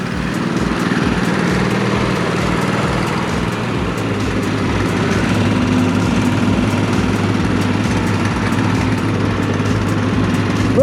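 Two go-karts, one with a GSXR 600 motorbike engine and one with twin GX160 engines, run together on the street, giving a steady, close, continuous engine drone and buzz with no talking.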